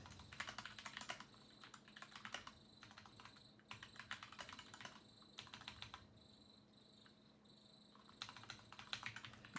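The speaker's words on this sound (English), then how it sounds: "Actually, I don't like typing. It makes me nervous." Rapid typing on a computer keyboard, close and crisp, comes in bursts of clattering keystrokes separated by short pauses, with a faint electronic whine in the background.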